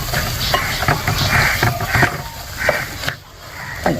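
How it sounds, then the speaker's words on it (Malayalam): Chinese potato and sardine (mathi) get stirred together in a pan with repeated scraping and shuffling strokes over a steady sizzle of frying, loud and close, with a brief lull near the end. "നന്നായിട്ടൊന്ന് നമുക്ക് കൂർക്കയും ചാളയ്ക്കും ഒന്ന് നന്നായിട്ട് ഇങ്ങനെ മിക്സ് ചെയ്തെടുക്കാം കേട്ടോ"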